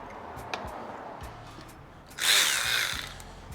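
Power tool snugging down bolts during a head gasket job on a 2018 Honda Accord 1.5L turbo engine, a loud burst of whirring that starts partway in and runs about a second over faint workshop background.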